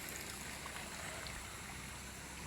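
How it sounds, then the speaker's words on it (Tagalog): A stream flows faintly and steadily, a soft continuous wash of water with no voices. "Ito po, sapa."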